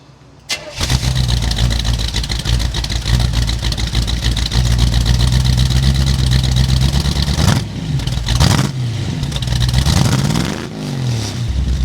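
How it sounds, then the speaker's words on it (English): A 1920 Ford Tudor fitted with a front-mounted V8 cranks briefly and fires up, then settles into a loud, steady idle close by, with several sharp throttle blips and revs near the end and no talking. "It's small, but it's powerful with that V8 in the front, and I want to let you guys hear me start it up."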